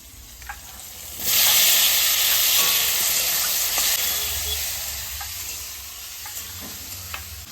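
Garlic, chili and tomato dropped into a hot frying pan burst into a loud, sudden hissing sizzle that gradually settles into a steady fry, with occasional light clinks of a utensil and no talking.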